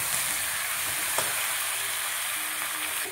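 Cauliflower pieces fry in a pan with turmeric and a little salt, giving a dense, continuous hissing sizzle with one faint stirring knock, close and steady throughout.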